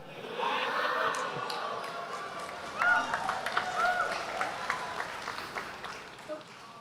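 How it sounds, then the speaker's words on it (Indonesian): An audience at a public Q&A forum breaks into applause, a dense patter of clapping that swells and then slowly thins out, with a few voices mixed in. "saya 1-0 dapat tepuk tangan Pak barusan"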